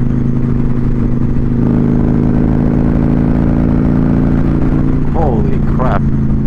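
A Harley-Davidson Stage 2 107 motorcycle pulls hard in fifth gear, its loud, steady engine drone filling the whole stretch up close, with brief voice-like sweeps near the end under the constant roar.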